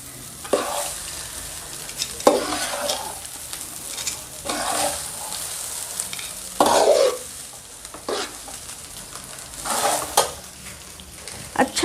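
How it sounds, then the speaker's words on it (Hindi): Chicken fried rice stir-fried over a high flame, with continuous loud sizzling and repeated scraping strokes of a spatula against the pan, close up, with occasional metallic clanks and no talk. "तेज़ फ्लेम पे इसको अच्छे से भूनते जाना।"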